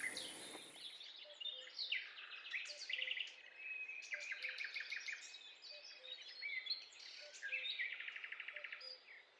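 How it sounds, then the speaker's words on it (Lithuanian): A black woodpecker, the region's largest woodpecker and nearly crow-sized, calls in a natural, damp spruce forest at Labanoras, its repeated notes mixing with busy, overlapping songs of other birds nearby. "kleketuojant juodąją meletą, kuris yra didžiausias mūsų krašto genys, beveik varnos dydžio"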